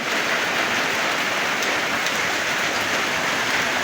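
Heavy rain drums steadily on a tin roof, a loud, unbroken metallic roar with no voices.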